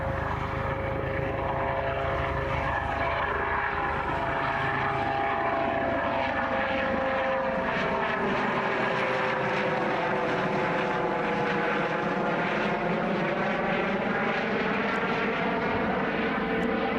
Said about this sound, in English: I've seen a chopper somewhere